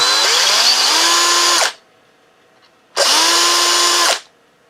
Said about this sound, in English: I'm gonna go clean up the inside so the bolt goes through it nicely with the countersink